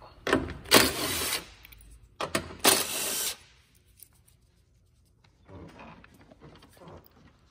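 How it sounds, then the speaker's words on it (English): A 10mm socket ratchet works the top headlight bolts on a Honda Ridgeline, giving two bursts of close ratcheting clicks, then quieter fiddling sounds after a pause. "we need to remove these two bolts up on top of the headlight here with using a"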